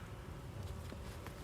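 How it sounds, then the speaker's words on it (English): Honey bees in an opened beehive give a steady, close, continuous buzz that holds an even level throughout, with no voices. "I'm being really slow and I'm being really gentle because I don't want to disturb the bees"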